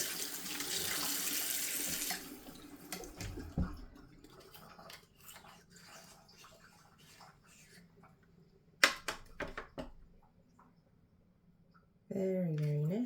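Pressurized tap water rushes loudly over a washing machine detergent drawer as it is rinsed. The flow then drops to softer splashes and clatters, and a voice comes in near the end.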